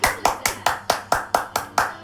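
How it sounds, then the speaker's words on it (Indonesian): One person's hands clapping in a steady, slow rhythm, about nine crisp claps, close and sharp with a short ring after each. "Tepuk tangan, Indosiar."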